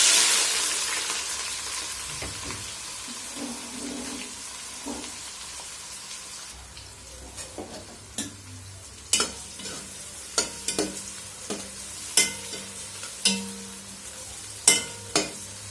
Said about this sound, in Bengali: তেলটা গরম হয়ে গেছে, পেস্টে দিয়ে দিব এখন।